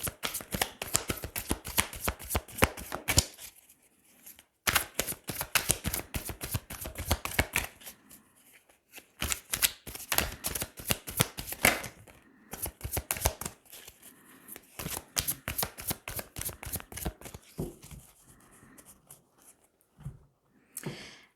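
Tarot cards are shuffled close up in quick riffling bursts: fast rattling flutters broken by short pauses, repeated about six times, with no voices.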